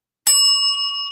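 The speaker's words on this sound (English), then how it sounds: "Where's my bell?" A small handheld bell struck once with a bright metallic ding, leaving clear ringing overtones that decay slowly, heard alone without any speech.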